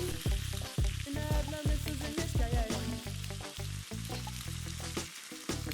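Stewed saltfish sauce for a St. Kitts and Nevis national dish sizzles steadily as it cooks down in a pot, with scraping stirs and a few clatters over the continuous loud frying hiss.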